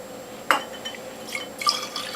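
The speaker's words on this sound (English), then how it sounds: "Alright, I'm topping all these bottles off with water" Water poured into glass bottles of carrot-beet juice to top them off, heard as a faint trickle with small splashes and drips. There is a sharper splash near the start and a brief burst of pouring toward the end, with no talking.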